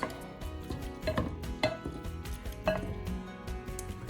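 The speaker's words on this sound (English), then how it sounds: "Alright, so we're going to break our meat up." Cooking ground meat for chili gets broken up in a pan with a Pampered Chef mix and chop tool, giving repeated scraping and tapping clinks at close range, several sharper knocks spaced irregularly, and no one talking.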